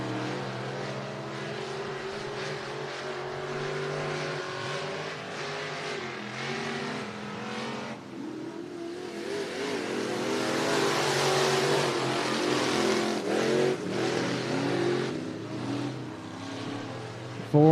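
IMCA Sport Mod race cars in a heat race on the Cottage Grove Speedway dirt oval in Oregon, their engines droning steadily, then swelling into a louder roar as the pack passes close by.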